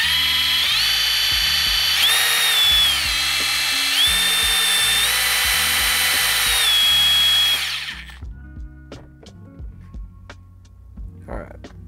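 A power drill bores a hole through an antenna mount for a homemade 2-meter dipole, whining loudly and steadily for about eight seconds with slight pitch shifts, then stopping and leaving faint handling clicks.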